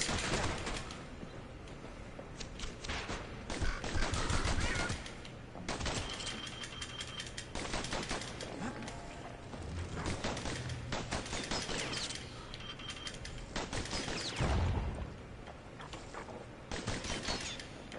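Pistol gunfire in a video game: long stretches of rapid, crackling shots in close repeated volleys, loud throughout and broken by brief pauses, with no talking.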